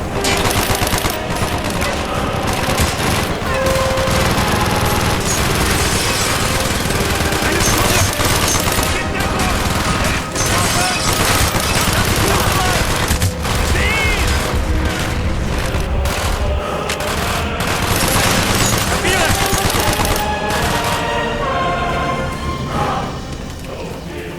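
Dense, continuous gunfire from Call of Duty Black Ops fills the stretch, with rapid automatic bursts, single shots and occasional booms layered loudly together throughout, with shouted voices faintly mixed in.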